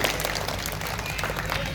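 Children at a Grade 2 school assembly clap together, a dense, even patter of many hands, somewhat distant and moderate in level, continuing throughout.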